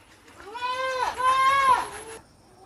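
Malabari goats in a farm shed at Kottakkal, Malappuram, give two close, clear bleats, one after another, each wavering and loud against a quiet background.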